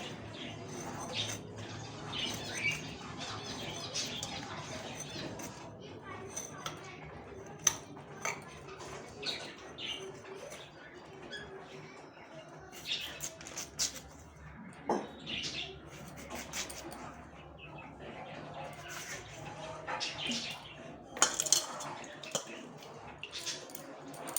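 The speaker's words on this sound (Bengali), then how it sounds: "এর মধ্যে চটপট করে আগে সবজিগুলো কেটে নিই" Knife chops vegetables in a home kitchen, with irregular taps and cuts against a board, light clatter of utensils, and faint background chirps.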